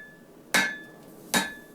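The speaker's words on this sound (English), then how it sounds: "I like the way that the actual head of that hammer is shaped" Two sharp, ringing hammer blows spaced under a second apart as wire rope Damascus steel is forged for a knife, close and clear over a faint steady hum.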